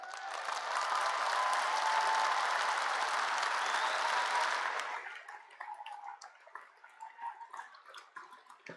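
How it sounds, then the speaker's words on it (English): A commencement crowd applauds the graduates with dense, loud clapping for about five seconds, then it thins to scattered, fading claps and faint sounds near the end. "how about a round of applause for our graduates?"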